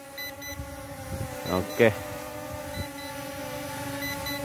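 A S5S drone sounds its low battery warning in a short series of beeps around the middle, fairly faint beneath steady background hum, with a person speaking briefly.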